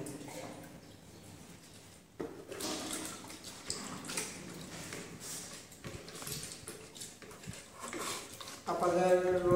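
Water is poured into Berger wall primer, giving a close, splashy trickle that swells toward the end, with a person talking over it.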